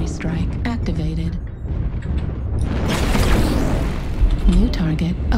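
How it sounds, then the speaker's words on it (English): Artillery strike explosions in the MechWarrior video game, fired from an HBK-4P mech on the Polar Highlands map: loud, rumbling booms that build and swell over mechanical game noise, with a synthetic voice announcing in between. "Artillery strike activated."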